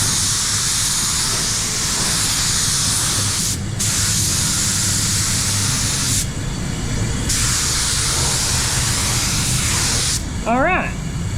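Spray gun laying a first coat of clear over candy paint on a Mazda 3 during a respray, a loud, steady hiss in bursts with brief pauses between passes, and a voice briefly near the end.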